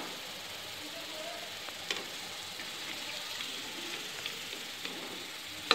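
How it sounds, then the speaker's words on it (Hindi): Lentil fritters (bade) frying in hot oil in a home kitchen, a steady soft sizzle throughout with a few faint clinks, no talking. "ये देखिए बड़े मैंने बिल्कुल अच्छे लाल होने तक फ्राई कर लिए हैं"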